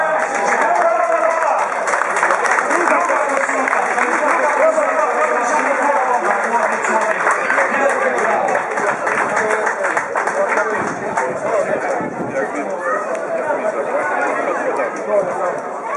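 Sustained applause and crowd noise fill a hall at a charity auction after a winning bid, steady and dense throughout with chatter mixed in.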